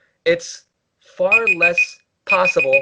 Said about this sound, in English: That was my alarm telling me that I have to reset my camera.